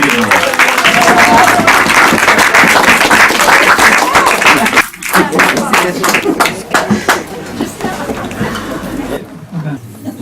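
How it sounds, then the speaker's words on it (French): Dense, steady applause from a slam poetry audience at the Cave Romagnan in Nice, a full wash of clapping that holds for most of the stretch before cutting off, with a few voices mixed in. "je vous demande d'applaudir"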